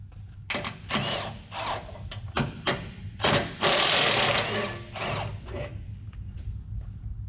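Power tool spinning loose a 22 mm nut on a third-generation Toyota 4Runner's suspension during rack and pinion work, with loud, close whirring bursts of impact rattle that stop and start several times.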